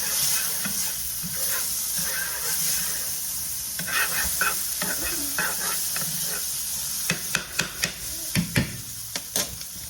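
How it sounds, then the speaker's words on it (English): Butter sizzling in a skillet while cooking tacos: a continuous close frying hiss with stirring and scraping, then sharper utensil clicks against the pan toward the end. "So I'm gonna put a little butter in the skillet."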